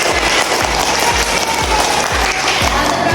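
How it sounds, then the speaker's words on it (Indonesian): A classroom of students applauds together, a dense, steady burst of clapping that fills the room, close and lively throughout without speech. "mari kita berikan aplaus untuk kelompok dua. Aplaus."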